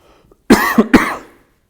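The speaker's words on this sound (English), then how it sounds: "Sorry about my cough." Two quick, harsh coughs close to the microphone, back to back, then quiet.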